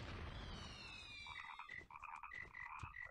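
Cartoonish frog croaks and chirpy game effects from a Harry Potter puzzle video game, a sweeping tone followed by repeated short croaks with no talking.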